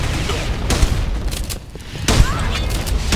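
Gunfire in an arena video game, loud bursts of shots at irregular intervals with booming impacts, heard alongside players' excited talk.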